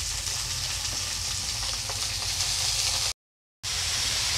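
Shenchi greens frying in a pan with browned onion and potato, a constant close hissing sizzle with faint stirring scrapes, interrupted by a brief silent gap before the sizzling resumes.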